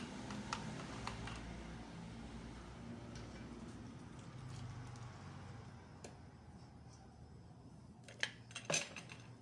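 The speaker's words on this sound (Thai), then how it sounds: "คนผสมให้เข้ากันเลยนะคะ" Quiet clicking and scraping of a utensil against a bowl as pizza dough mixture with yeast and oil is stirred, with faint irregular taps that grow a little sharper near the end.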